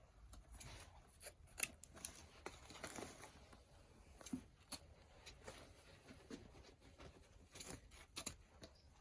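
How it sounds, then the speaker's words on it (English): Scissors snip the ribbon tails on a Christmas floral swag, a run of quick, crisp cuts and rustling ribbon close by, with no talking. "So I'm going to start by cutting the tails."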